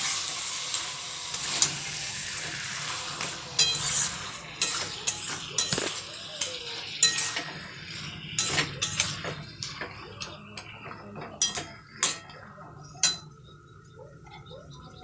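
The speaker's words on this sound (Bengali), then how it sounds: "চিকেনটা দেওয়ার পরে আমি ভালো করে নাড়াচাড়া করে নিলাম" Roughly 700 grams of chicken being stirred in a pot for biryani, a spoon clinking and scraping against the metal in irregular taps, fairly close and otherwise quiet.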